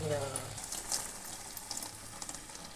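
Water and ground paste pour into a pan of ridge gourd gravy, a splashing pour followed by steady sizzling and bubbling close up, with a voice speaking at the start.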